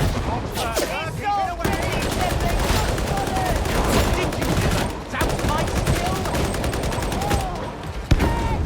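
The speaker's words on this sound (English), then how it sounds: "I'm just sort of generally firing in their direction, which I know is enough to suppress them" Rapid bursts of suppressive gunfire in the Warhammer 40K game Darktide, played as a Skitarii on Auric high-intensity difficulty; dense, continuous shooting and impacts fill the scene with brief gaps, voices faintly mixed in.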